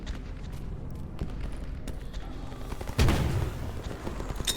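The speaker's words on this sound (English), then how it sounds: "I can throw some grenades" Grenade blasts in the game S.T.A.L.K.E.R. around Pripyat, a dense bed of gunfire crackle under a sudden heavy boom about two-thirds through, with scattered sharp reports continuing afterward.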